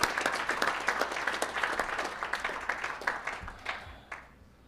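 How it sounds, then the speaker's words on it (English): An audience at a board meeting gives a round of applause, steady clapping that fades out after a few seconds, with no talk over it. "Let's give them one more hand of applause,"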